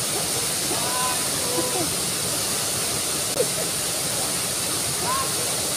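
Steady broadband rush of Vera Falls in Bicol, constant and enveloping, with faint voices and a few brief sounds scattered over the water noise.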